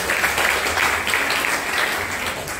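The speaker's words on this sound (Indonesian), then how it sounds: "Kita beri tepuk tangan untuk acara pagi hari ini" Steady, dense applause from a crowd at a morning event, many hands clapping continuously without a break.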